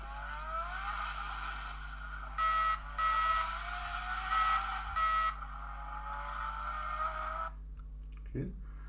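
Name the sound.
engine sound effect from a Toyota Supra model kit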